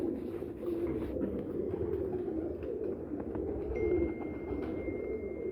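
Pigeons kept by a breeder coo in soft, low, continuous murmurs against a steady background hum. The birds sound moderately close but faint, and no one speaks.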